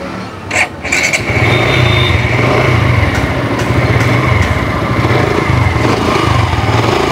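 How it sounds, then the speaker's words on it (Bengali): A Suzuki Gixxer motorcycle engine starts and then idles, a close, steady low rumble with a regular even pulse after a brief starting burst. "আমাদের বাইকের সাউন্ড একবারে স্মুথ আছে।"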